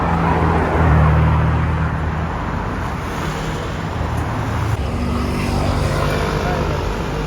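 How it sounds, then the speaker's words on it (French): A McLaren Senna supercar drives through London streets, its engine a steady broad roar amid city traffic noise, fairly loud and continuous throughout with a faint voice in the background. "regardez McLaren Senna juste là"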